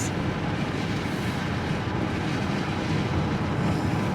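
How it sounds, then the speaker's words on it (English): Wind blowing on Coronado Island in San Diego near the beach, a continuous broadband rush buffeting the microphone, loud and steady with no talk. "Oh, it's windy."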